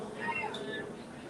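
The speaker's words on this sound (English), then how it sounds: "We've got our sleeping Loft Cat here." A cat gives a short meow in an indoor setting, fairly close, with some faint background murmur.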